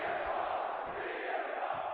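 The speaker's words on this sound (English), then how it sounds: "The crowd are behind Punk, you can hear." A WWE 2K24 arena crowd roars steadily in a sustained, dense wash of cheering at the main event, loud and continuous without breaks.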